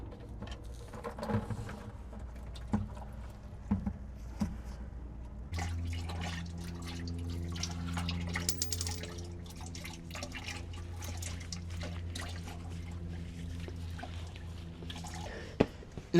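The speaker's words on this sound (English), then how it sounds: "I'm gonna drain the fluid now and hopefully drop that transmission pan." Transmission fluid drains from the pan of a Deuce and a Half military truck, starting as scattered drips and then becoming a steady splashing stream into a container, close and continuous, with a few sharp knocks near the end.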